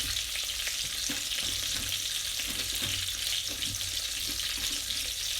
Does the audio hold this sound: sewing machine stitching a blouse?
no